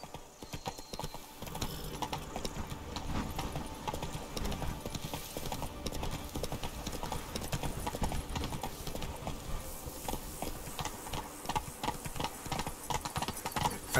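Roach the horse galloping in The Witcher 3: Blood and Wine, a steady, rapid clip-clop of hooves running close and loud throughout, with a brief whinny and a rider's short voice cues mixed in.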